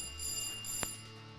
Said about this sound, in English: that bell means the first part of the game is now over